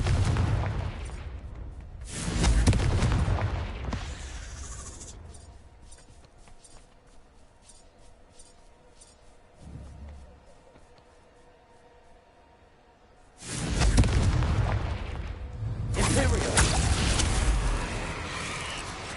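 In Hogwarts Legacy, the Confringo fire spell erupts in loud, roaring explosive blasts, one early burst and a longer heavy rumble later, with quieter crackling and game ambience between them.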